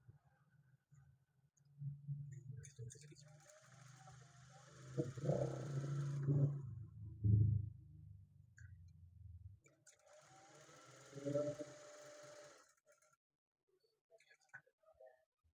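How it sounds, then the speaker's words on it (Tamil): A sewing machine stitches a blouse in two separate bursts of rapid whirring, moderately close, with quiet pauses and soft handling sounds between them. "நான் இப்போ இதில் ஸ்டிச் தான் போட போகிறேன்."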